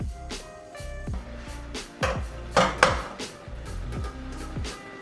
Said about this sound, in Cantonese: 用乾鑊炒熟